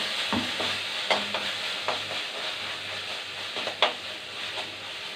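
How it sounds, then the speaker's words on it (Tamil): Tomatoes sautéing in hot oil for a dried fish curry, with a soft steady sizzle and a few sharp stirring scrapes of a spoon against the pan, close and alone. "இப்போ தக்காளி போட்டுக்கலாம். தக்காளி நல்லா வதங்கணும்."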